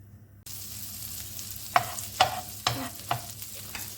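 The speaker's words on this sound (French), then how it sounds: "Dans une poêle, on va faire fondre du beurre. Et ensuite on va rajouter les lardons." Lardons sizzling in melted butter in a frying pan: a steady hiss after a brief silent start, with a few sharp scraping or stirring clacks on top, close and fairly quiet, no talking.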